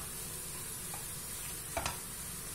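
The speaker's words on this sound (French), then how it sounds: "Je mélange tout et je laisse cuire 5 à 6 minutes." Vermicelli and courgettes with other vegetables stirred in a pan over a steady low sizzle, with one brief scraping pass of the spoon near the end.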